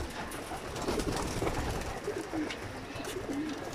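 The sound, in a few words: breeding pigeons cooing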